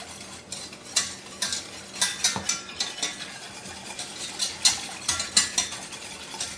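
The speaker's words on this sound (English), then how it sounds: "Just a little bit, I'm going to whisk this together." A whisk beats sriracha into a teriyaki sauce in a bowl, making quick repeated clicking scrapes in an uneven rhythm, close and moderately loud with no talking.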